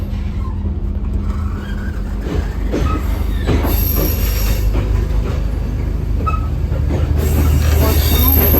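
A Sri Lankan Railways passenger train runs loudly and close, its wheels grinding and squealing over a continuous heavy rumble that never lets up.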